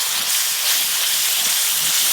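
Water splashed into frying masala in a pan for a Bengali egg curry sets off a steady, loud sizzling hiss that holds evenly throughout without any pauses or speech.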